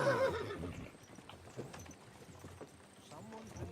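A horse whinnies and its hooves clip-clop in the Kingdom Come: Deliverance II video game, with a loud neigh at the start followed by scattered hoof steps.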